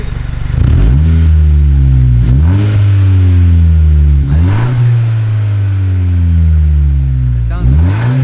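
Honda Si engine with a Yonaka Motorsports exhaust revving loudly and close, climbing and falling through about five quick rev cycles with a steady idle-like drone between them.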